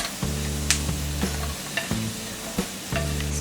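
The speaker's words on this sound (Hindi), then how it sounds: "इसमें हम बादाम भी फ्राई कर लेंगे।" Almonds fry in a pan over a low flame for moong dal halwa, a steady close sizzle broken by several light stirring scrapes at irregular intervals, with no voices.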